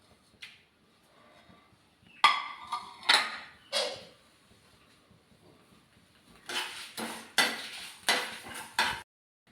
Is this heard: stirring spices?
yes